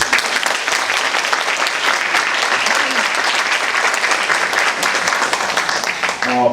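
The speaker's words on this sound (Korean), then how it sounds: "박수 한번 주시죠." Sustained audience applause fills a hall at a Yongin mayoral candidates' social welfare policy debate, dense steady clapping from many people throughout with no speech over it.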